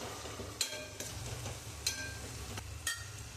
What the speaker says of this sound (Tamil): இதெல்லாம் நல்லா வதக்கலாம்.